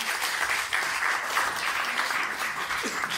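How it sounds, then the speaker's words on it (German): Full audience applause at a local festival ceremony honoring two young women, a dense steady wash of clapping at fairly loud level, continuous for about three seconds. "Ein Applaus bitte."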